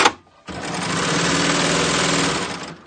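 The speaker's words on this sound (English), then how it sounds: "I'm gonna sew" Serger sewing machine stitching a rolled edge on stocking fabric, a quick whirring, rapidly pulsing mechanical run of about two seconds that starts after a brief knock and stops cleanly.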